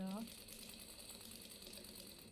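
A sewing machine runs a reinforcement stitch on denim for a tote bag, a steady rapid mechanical whirring and clatter, close up, running alone after a brief opening sound.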